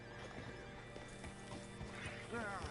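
In Red Dead Redemption 2, a horse whinnies near the end over a steady stream of clopping hooves and mechanical rattling.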